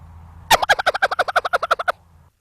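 A champion turkey caller imitates a gobbler with his voice, giving one rapid, loud rattling gobble of about fourteen quick pulses, cut off sharply after a second and a half, with no talk.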